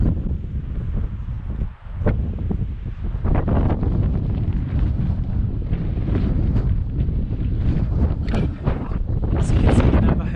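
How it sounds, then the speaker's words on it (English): Strong, cold winter wind buffets the microphone on the Navajo Loop trail in Bryce Canyon, a loud, gusty roar that surges and dips continuously, with no talk. "It's so cold and so windy"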